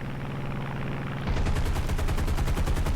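Aircraft machine guns firing in War Thunder, with a steady engine drone first and then a loud, rapid, evenly spaced stream of shots hammering out at close range.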